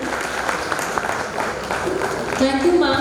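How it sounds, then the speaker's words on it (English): Crowd applause at a conference session closing, a dense wash of clapping from a large audience throughout, with voices and a brief tonal sound rising near the end. "Can we have a huge round of applause,"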